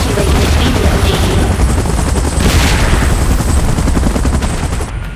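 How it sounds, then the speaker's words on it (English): In a PUBG match, a helicopter roars loudly and continuously close by, rotor thumping under bursts of gunfire and booming impacts. "Chopper in position."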